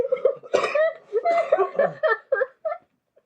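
A person coughs in a series of short, breathy bursts that sound close to laughter, tapering off into quieter spurts.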